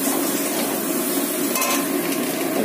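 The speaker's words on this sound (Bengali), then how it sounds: "এবার আমি মাটনগুলো দিয়ে দেবো এখানে।" Mutton pieces dropped into a pan of fried spice paste, hissing in a loud, dense, continuous sizzle close up, with a faint clink partway through and no talking.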